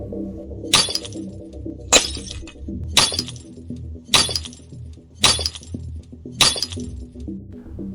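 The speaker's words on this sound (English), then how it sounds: "And then he started smashing his head into my windshield." A windshield being smashed, six sharp glass-breaking crashes spaced about a second apart over a low droning background, loud and close.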